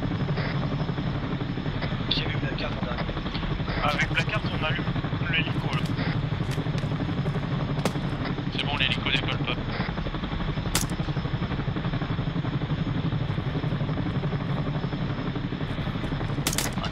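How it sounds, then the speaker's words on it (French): A combat helicopter takes off in the military game Arma 3, its rotor and engine drone holding steady and loud throughout, with radio chatter and voices talking over it. "l'hélico de combat décolle"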